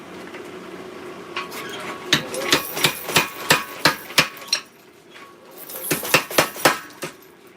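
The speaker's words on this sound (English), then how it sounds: "back to the power hammer" Power hammer pounding a small Bowie knife blade during forging: two bursts of sharp, loud, evenly paced metallic blows, about eight strikes then a short pause and four or five more, with no talking.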